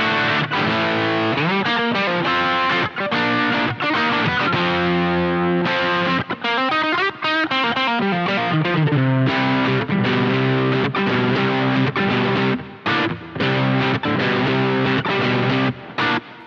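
Electric guitar run through a Valeton distortion pedal with low gain and the tone knob turned fully down, giving a dark, muffled, saturated sound; continuous chords and riffs played loud and close without talk.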